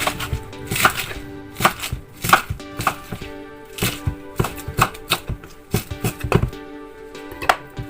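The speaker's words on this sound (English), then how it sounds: "I just chop it like that" Knife chopping tomato on a cutting board, a series of sharp, distinct thuds in an uneven rhythm, close and fairly loud, with no talking.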